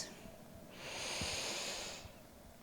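A person lets out one slow, soft exhale through the nose during a yoga pose, a faint breathy hiss swelling and fading in a quiet room.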